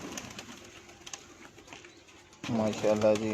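Pigeons coo on a rooftop loft in Muradpur, Gujrat, soft low calls close by, with a voice speaking over them and the sound growing louder near the end.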